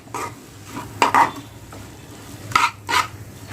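A spoon stirs a stir-fried okra dish in a pan after fresh coriander is added with the gas off. A few separate clinks and scrapes against the pan come close and fairly clear, spaced irregularly over quiet background.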